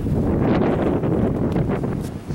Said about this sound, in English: the wind is still blowing pretty harsh